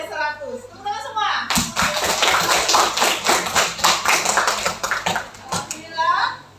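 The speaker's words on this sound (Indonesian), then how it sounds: "Tepuk tangan semua." A classroom of students breaks into lively clapping, many hands slapping rapidly together for several seconds, with a teacher's voice speaking just before and after.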